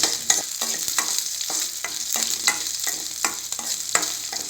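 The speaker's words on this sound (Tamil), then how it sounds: "இப்போ வெங்காயம் நல்லா வதங்கி வரட்டும்." Onions sautéing with garlic in a pan for a bitter gourd tamarind kulambu, with a steady sizzle broken by repeated scraping stir strokes, close and alone without speech.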